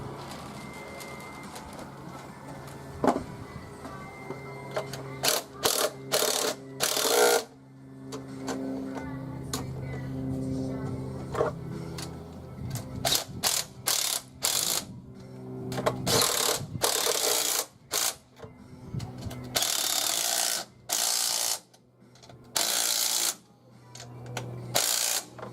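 Ratchet clicking in bursts while bolts on a Banks Techni-Cooler are tightened, loud and close, with quick repeated runs of clicks separated by pauses and some handling clatter.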